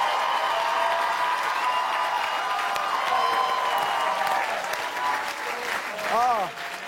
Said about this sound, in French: On applaudit nos 4 improvisateurs de ce soir.